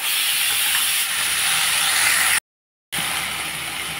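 Leafy greens hit a hot pan with a few pieces of chilli, giving a loud, bright sizzling hiss that stays steady, cuts out briefly, then resumes.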